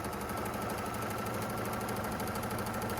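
A sewing machine runs steadily and close by for the whole stretch, batch sewing drawstring bag fabric pieces one after another in an unbroken chain, with a dense, even mechanical whir.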